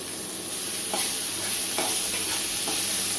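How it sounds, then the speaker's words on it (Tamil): Vegetables and chopped tomatoes sautéing in a pan for hotel-style mini idli sambar, a steady soft sizzle broken by a few distinct spatula stirs, close and with no talking. "இப்போ தக்காளியும் சேர்த்து நல்லா வதக்கிக்கலாம்"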